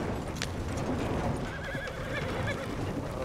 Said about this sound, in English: There goes the horse.